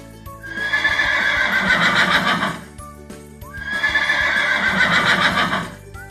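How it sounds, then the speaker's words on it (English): A horse gives two loud, close whinnies, each a long shrill neigh lasting around two seconds, separated by a short pause. "This is a horse."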